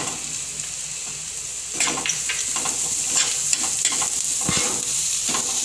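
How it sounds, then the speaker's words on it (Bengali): Chopped capsicum is tipped into a pan of softened frying onion, and a steady close sizzle rises sharply, then holds with stirring scrapes and crackles over the hiss. "এবার আমি ক্যাপসিকাম কুচিটা দিয়ে দিলাম।"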